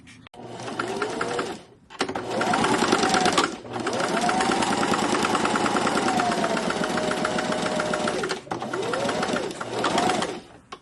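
A sewing machine stitches two fabric ends together in several fast, whirring runs, each lasting a few seconds and separated by brief pauses. The motor speed rises and falls slightly within each run.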